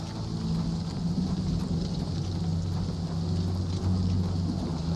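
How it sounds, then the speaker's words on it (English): Steady rain hisses over a low rumbling background, continuous and even, with no voices, in the video game Oblivion Remastered. "Fucking raining, man."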